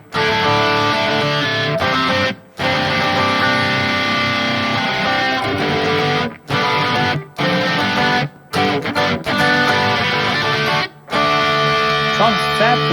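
An electric guitar plays crunchy distorted chords and riffs through a Neural DSP Gojira X amp plugin at reduced gain, close and loud, broken by several short abrupt silences between phrases.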